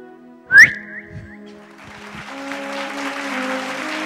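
A loud, sharp rising whistle from a performer on a televised singing-contest stage, followed by a couple of shorter whistles, then audience applause and cheering swell up underneath held music tones.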